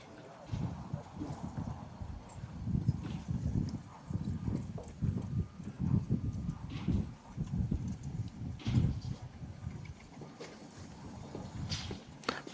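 Yearling thoroughbred horses walk in a sale parade, their hooves clip-clopping in a steady, unhurried rhythm at moderate distance over a quiet outdoor background for several seconds.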